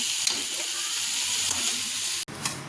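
Okra with chopped coriander steams and fries in an uncovered pan, a continuous soft hiss of sizzling that holds steady before a brief dropout near the end.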